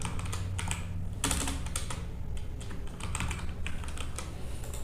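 Steady, rapid clicking of a computer keyboard as code for a PHP form is typed, close and continuous with brief pauses, no talking.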